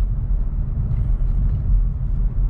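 Volkswagen Polo TSI cruising in fourth gear, a steady low engine and road rumble heard from inside the cabin, even and moderately loud with no voices.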